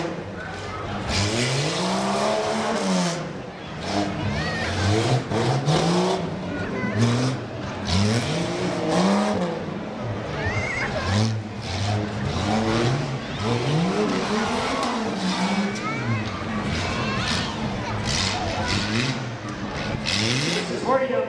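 Rough trucks race a lap at a county fair, engines revving hard and rising and falling in repeated loud bursts as they pass. An announcer talks over the roar.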